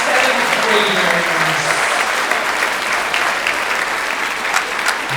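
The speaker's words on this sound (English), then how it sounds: "How about another round of applause for our graduating seventh graders?" Listeners at a children's choir and youth chorus spring concert applaud the graduating seventh graders, a loud sustained wash of clapping mixed with cheers and voices from the crowd.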